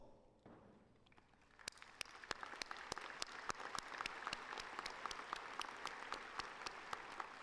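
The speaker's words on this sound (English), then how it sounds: "Would those receiving a doctoral degree please stand and receive our applause?" Applause rises for doctoral degree recipients at a university College of Engineering commencement, starting quietly then swelling into steady, sustained clapping with sharp individual claps standing out from a large hall crowd.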